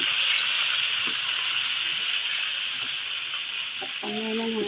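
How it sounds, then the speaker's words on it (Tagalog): Pork fries in a hot pan for a Filipino pork pochero, a loud, steady close sizzle and hiss throughout, with a few faint clinks of a utensil against the pan near the end. "Prito natin ang baboy."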